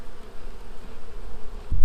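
Honey bees on a frame from a weak hive give a close, loud, continuous buzz, ending with a low thump.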